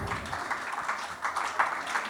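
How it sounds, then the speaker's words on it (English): A conference audience applauds the panelists being introduced, a continuous, diffuse patter of many hands clapping at moderate volume, heard from a little distance across the room. "Round of applause, everyone. Let's keep the clapping going."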